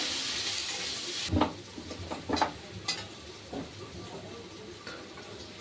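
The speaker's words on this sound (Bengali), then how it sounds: "এখন পনিরগুলো ভাজা নিই" Paneer cubes frying in a pan: a sizzle at the start that drops away, then a series of separate scraping and clattering stir strokes against the pan over a soft frying hiss, with no talk.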